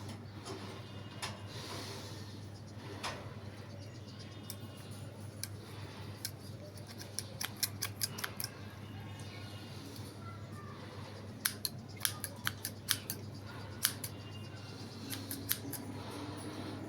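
Scissors snip carefully around a pet finch in a series of small, sharp clicks spread through the clip, growing more frequent toward the end, over a steady background hum.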